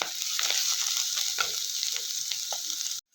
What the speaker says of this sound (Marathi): मेथी तेलात चांगली भाजून घ्यायची आहे 5 ते 10 मिनिट।